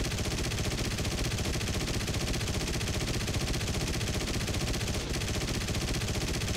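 Rapid machine-gun fire from an aircraft in the War Thunder combat game, a dense, steady rattle running without pause for several seconds at a constant level, with no voices over it.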